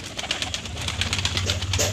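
Fantail pigeons coo in a steady run of soft, low, rolling calls, close by and continuous, with faint higher chirps layered above.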